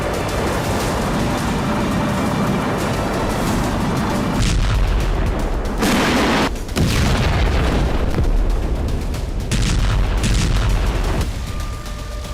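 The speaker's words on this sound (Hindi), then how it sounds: "यह तस्वीर उस वक्त की है जब यूक्रेन M142 हाइमार्स से लगातार बेलगोरोद पर हमले कर रहा था।" M142 HIMARS rocket strikes exploding over Belgorod, a dense barrage of loud booms and bursts rolling on continuously, with sharper blasts standing out near the middle.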